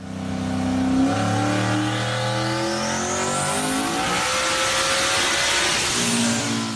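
A mod motor making 1,320 wheel horsepower on 30 pounds of boost screams loudly as it revs up to about 8,500 RPM, its pitch climbing steeply through the run with no voices.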